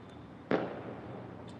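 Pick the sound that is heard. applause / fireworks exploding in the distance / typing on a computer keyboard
fireworks exploding in the distance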